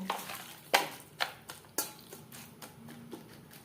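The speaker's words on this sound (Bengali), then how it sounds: "লবণ হলুদ দিয়ে মাংস বেশ ভালো করে মেখে নেব" Mutton being mixed by hand with turmeric powder and salt, giving soft wet squelching and stirring noises with a few sharper clinks against the bowl, close and fairly quiet.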